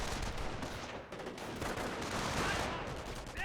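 Dense battlefield gunfire from Company of Heroes 1, rapid overlapping rifle and machine-gun bursts forming a continuous loud barrage with heavier thuds mixed in.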